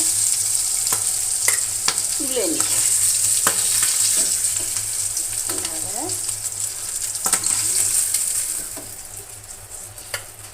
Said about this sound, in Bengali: মাছটা, এখন ভেজে নিব।